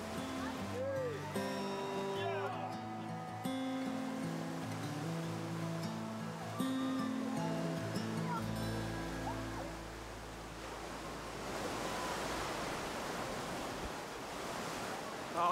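Sea waves wash onto the shore on a day at the sea in eastern Ukraine, near war and heavy industry. The steady surf swells into a broad wash in the second half, after tonal sounds and possible voices in the first half.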